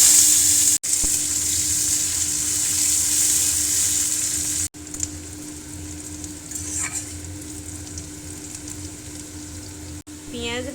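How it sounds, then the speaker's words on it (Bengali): Onions frying in hot oil with tempering spices for a potato and soya chunk curry, a steady close sizzle running throughout with brief stirring scrapes and short breaks. "পেঁয়াজ ভাজা হয়ে গেছে"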